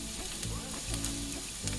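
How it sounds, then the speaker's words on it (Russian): Onion and carrot fry in about a tablespoon of hot vegetable oil in a pan on a stovetop, a continuous close sizzle with a few stirring scrapes and no talk. "на вторую конфорку ставим сковороду, разогреваем растительное масло, буквально 1 столовую ложку, и обжариваем лук и морковь до мягкости"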